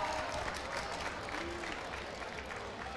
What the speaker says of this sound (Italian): facciamo un applauso anche a Ivan,